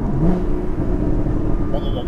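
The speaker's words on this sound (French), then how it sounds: "Regardez comment ça aboie." A Porsche Cayman GTS 981 flat-six engine revs with a deep, throaty growl, steady and close, windows lowered, with a voice faintly present underneath.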